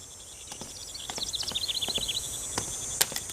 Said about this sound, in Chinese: 咱们去抓蛐蛐吧。